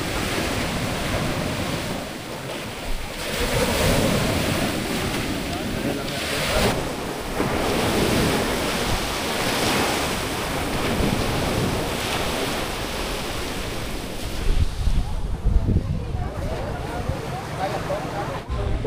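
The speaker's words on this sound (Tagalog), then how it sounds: "Lakas ng alon, eh." Strong ocean waves surge and crash against the Boracay shore, a continuous loud roar of surf with wind buffeting the microphone, while people talk over it.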